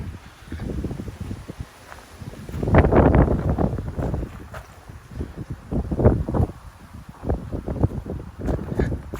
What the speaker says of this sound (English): It's kind of windy out here, so.